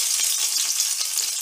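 Garlic and a green chili fry in heated oil for a Smithia sensitiva (kavla) vegetable dish, a steady close hiss of sizzling with small crackling pops throughout and no talking.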